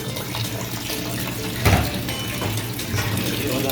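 Water pours steadily and loudly into a washing machine tub under repair, a continuous rushing splash with one brief louder gush midway.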